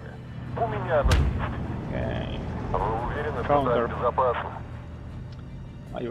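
Artillery fire in the World War II strategy game Steel Division 2, during a 10v10 multiplayer match, with a sharp boom near the start and scattered muffled blasts beneath players' voices talking throughout.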